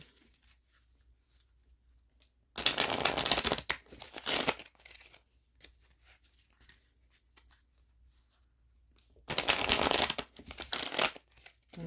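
Two bursts of tarot cards being riffled and shuffled, each a dense rapid flutter lasting a couple of seconds, separated by quiet.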